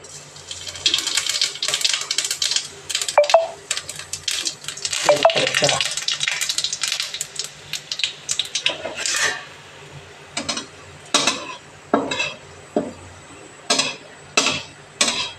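Cumin seeds hitting hot oil in a pan, a loud crackling sizzle that settles into steady frying, followed by repeated short scraping stirs of a spatula against the pan.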